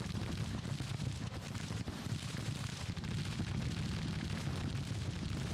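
Dense, continuous rumble of distant Civil War artillery fire and explosions in the Grand Tactician: The Civil War strategy game, booming steadily throughout with no clear gaps.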